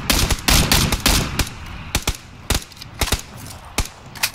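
Gunfire in PlayerUnknown's Battlegrounds, loud close bursts of rapid automatic shots followed by a string of sharp single shots spaced about half a second apart.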